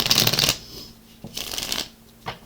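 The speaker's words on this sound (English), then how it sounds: "we just have a couple more shuffles to go here" Tarot cards being riffled and bridged, a long crisp burst followed by two shorter shuffles with brief pauses between.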